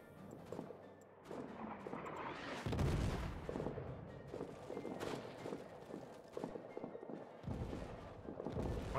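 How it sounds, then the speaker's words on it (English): Artillery shelling in the trench warfare video game All Quiet in the Trenches: deep booming blasts rumble continuously with heavy impacts near 3 and 7.5 seconds, under a steady din of gunfire and battlefield noise, with no talk. "Moderate artillery shelling under massive fire."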